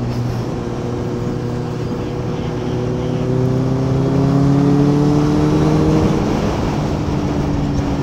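A Kawasaki Z900 superbike engine drones steadily under way at speed, its rising harmonic tones climbing as the bike pulls harder, with wind roar throughout and a voice faintly present.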